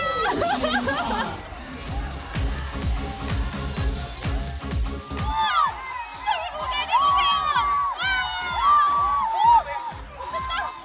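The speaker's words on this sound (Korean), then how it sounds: "이렇게 환호하는 이유가 있습니다" Crowd of spectators at a summer outdoor event cheering and shouting, a loud dense roar of voices with whoops, and amplified voices and music rising over it in the second half.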